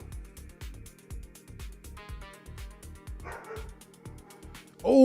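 Several dogs bark in repeated bursts indoors over a steady rhythmic background, with a louder yelp at the very end.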